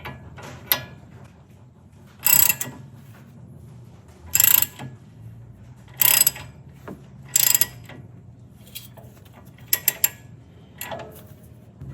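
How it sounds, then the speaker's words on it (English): A lug nut being tightened with a ratchet to draw a new wheel stud through a car's wheel hub, heard as several short bursts of ratcheting clicks separated by pauses over a low steady background hum. "you're going to tighten the lug nut and effectively pull that stud towards you through the hub"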